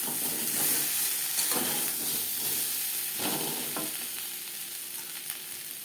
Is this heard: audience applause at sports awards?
no